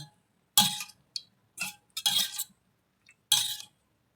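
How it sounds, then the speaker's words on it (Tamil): A spoon stirring egg curry in a pot, giving a few sharp metallic clinks and scrapes in separate bursts with quiet gaps between them. "இப்போது இதை நல்லா கலக்குங்க"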